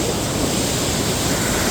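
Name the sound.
Rogue River flowing past rocks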